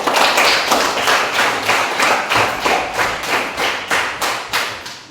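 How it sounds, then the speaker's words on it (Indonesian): Students in a classroom clap together in a loud, regular rhythm, about a dozen crisp unison claps, each with a slight decay, close and unaccompanied by talk. "Tepuk tangan."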